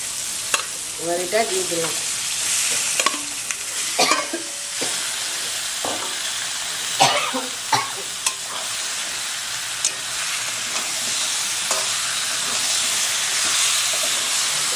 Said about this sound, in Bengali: এবার আমি দিয়ে দেবো মাংসটা।